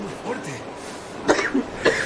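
A character in the video game Metro Exodus coughs several times after smoking very strong tobacco, a few short harsh bursts and throat clearing close up following a quieter stretch of low murmuring.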